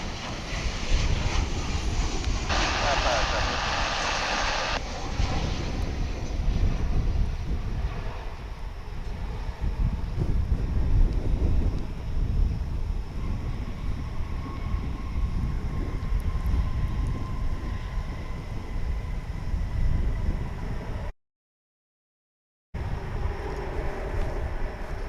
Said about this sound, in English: Now we've got another flight coming in from south of the border.